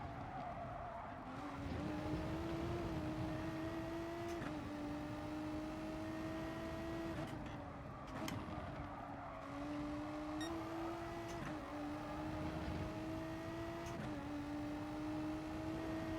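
Simulated car engine from Gran Turismo Sport, droning steadily as the car is driven, pitch climbing through repeated gear shifts, with occasional tire squeal, loud and continuous with no talk.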